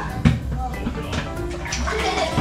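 Water is poured into a cooking pot, a gurgling, splashing stream with a sharp initial plop, running steadily at close range for a couple of seconds.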